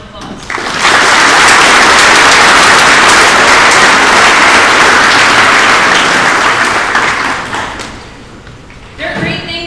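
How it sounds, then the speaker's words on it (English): A crowd at a school athletic code meeting gives a round of applause for Cadott student athletes and teams; loud, dense clapping swells in quickly, holds steady for about seven seconds, then thins and fades out. "Let's give those individuals and teams a round of applause."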